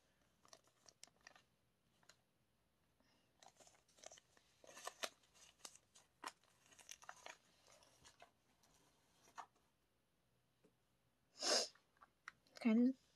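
Scissors snip through thin paper in a quiet room, giving short dry crunching cuts spread unevenly across the stretch, with a louder burst near the end.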